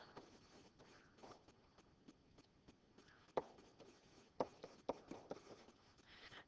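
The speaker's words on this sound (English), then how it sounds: "I'll write them off to the side." Pen or pencil writing on paper for a math lesson, faint close scratching strokes with a few sharper taps and clicks as marks are made, no talk.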